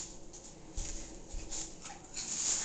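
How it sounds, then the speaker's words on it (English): A dog whimpers and gives soft yips in a home, the sounds faint and muffled under steady background hiss, with a couple of low thumps. "he gets so entertained by this dog"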